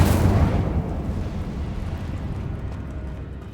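Incendio fire spell cast in Hogwarts Legacy, a loud fiery burst at the start that whooshes and crackles, then decays into a lingering low rumble.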